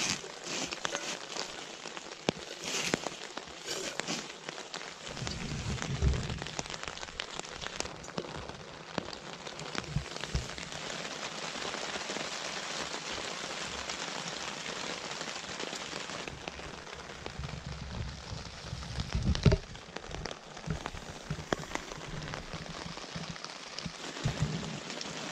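Rain falls steadily in the wilderness, a continuous hiss with scattered drops pattering and crackling on a tarp or nearby surfaces, close and sustained throughout.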